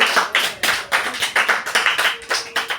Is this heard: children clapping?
yes